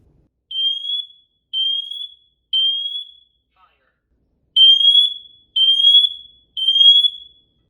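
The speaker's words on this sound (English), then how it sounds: "So now let's test both smoke and carbon monoxide detector" A smoke and carbon monoxide alarm sounds during a test, giving loud, shrill electronic beeps in two groups of three with a short pause between the groups. The beeps are close and clear, with nothing else underneath.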